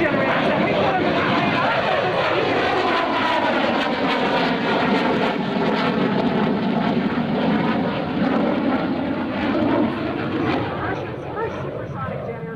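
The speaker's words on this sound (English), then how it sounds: "first supersonic jet aircraft, which means it can go really fast" A MiG supersonic jet flying at the 2004 NAS Oceana airshow, its loud continuous engine roar sweeping past with a shifting, phasing tone that fades slightly at the end; no speech over it.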